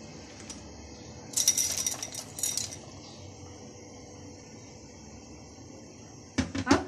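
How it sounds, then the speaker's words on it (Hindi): Dry macaroni poured into a pot with oil and salt while cooking chicken spaghetti, giving two short bursts of rattling, clinking pasta against metal, then a pause and a final brief clatter. "अब इसमें मैक्रोनी डाल दें।"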